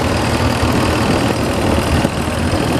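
Cletrac diesel crawler tractor with a Buda diesel engine idles nearby at a steam fair, a steady, low, chugging rumble with a slightly uneven beat and no talk over it.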